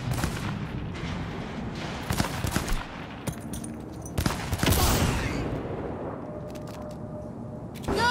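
Gunfire in the video game Cyberpunk 2077, bursts of rapid shots and sharp cracks over a noisy game backdrop, with a louder cluster of blasts midway before it fades toward a quieter tail.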